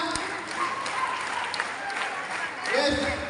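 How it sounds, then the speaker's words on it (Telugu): An audience claps together at a gathering, producing a dense, even wash of applause that lasts throughout and swells slightly near the end. "గ్రేట్ క్లాప్స్ అడుగుతున్నా."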